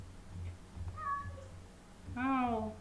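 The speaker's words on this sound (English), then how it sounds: "He is the loud cat in the background." A house cat meows loudly in the background, two drawn-out cries about a second apart, the second louder and longer, over a low steady room hum with no talking.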